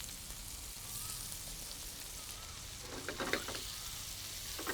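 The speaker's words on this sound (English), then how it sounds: "Fry the onions or saute the onions on a medium-high flame." Julienned onions frying in oil over a medium-high flame, a steady broadband sizzle with a few louder crackles and spatters near the end.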